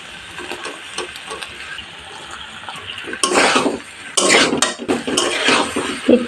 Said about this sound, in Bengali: একবার মিক্স করে বয়েল করা পাস্তা অ্যাড করে দিচ্ছি।